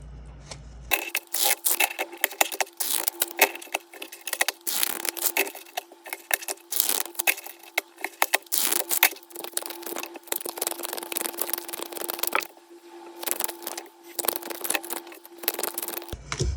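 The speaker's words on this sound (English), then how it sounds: "So I'm going to shuffle the tarot" Tarot cards being shuffled by hand: a dense, steady run of soft papery riffling and light tapping that continues close up with no talking.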